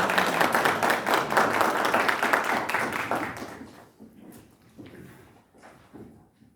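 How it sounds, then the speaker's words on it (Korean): Audience applause at an academic paper-presentation forum welcoming a presenter to the stage: dense, full clapping for about three seconds, then thinning out into scattered, fading claps. "다 같이 박수로 환영하겠습니다."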